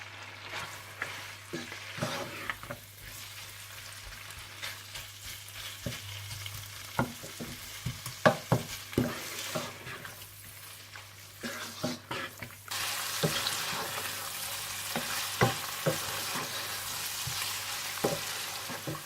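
Chicken sizzles and fries in a pan with crushed black pepper, salt and a chicken cube, with repeated stirring scrapes and clinks over a continuous low hiss that grows louder toward the end.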